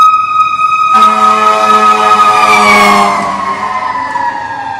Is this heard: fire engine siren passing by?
yes